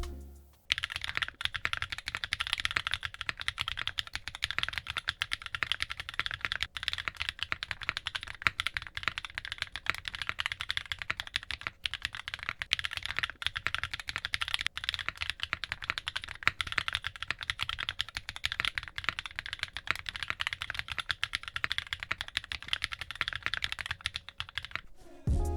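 Continuous fast typing on Zenclack mechanical keyboard switches, first stock and then fully lubed, a dense close-miked patter of clacky keystrokes with no pauses and no talking.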